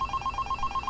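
A telephone rings in the video game Five Nights at Candy's with a rapid, steady electronic trill of short repeated pulses, clear against a low background hum, with no talking.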